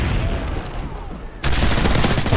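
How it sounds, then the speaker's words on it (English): Gunfire in Call of Duty: Modern Warfare 3 multiplayer, a dense burst of shots that steps up loudly about halfway through and holds steady to the end, with no talk over it. "your teammate was shooting me"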